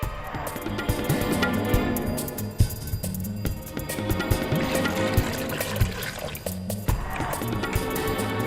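Water being poured while making chaas, a spiced buttermilk drink, in a home kitchen: a continuous splashing, liquid rush mixed with background music.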